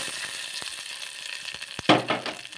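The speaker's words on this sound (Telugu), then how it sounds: "ఇంకా పోపు అయితే పెట్టేసుకుందాం చట్నీలోకి" A tempering of green chillies and curry leaves in hot oil for peanut chutney crackles with light pops, then flares into a louder burst of sizzling near the end.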